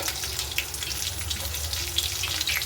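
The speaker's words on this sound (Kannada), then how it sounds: "ಇದು ಸ್ವಲ್ಪ ಫ್ರೈ ಮಾಡ್ಕೊಳ್ಳೋಣ ನೋಡಿ ಈರುಳ್ಳಿ ಫ್ರೈ ಆಗಿದೆ" Onions frying in a pan for mint chutney give a steady, close, moderately loud sizzling crackle that holds evenly with no pauses, a wet hiss close to running water, and no voices.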